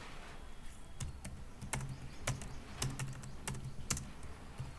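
Typing on a computer keyboard during an HTML forms lesson, a sparse run of crisp individual key clicks spaced irregularly over several seconds, quiet and close.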